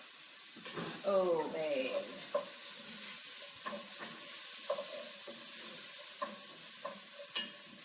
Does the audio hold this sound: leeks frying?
yes